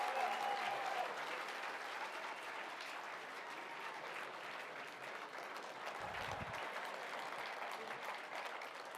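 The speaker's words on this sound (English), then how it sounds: "Give a round of applause for Elvin Hayes" A live audience applauds steadily for NBA great Elvin Hayes at a ceremony, a dense, even wash of clapping that holds from start to finish with little change in level.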